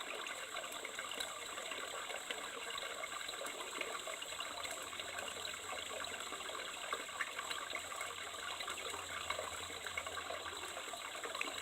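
Fresh water runs continuously from a natural source in a faint, steady rush and trickle, with no voices.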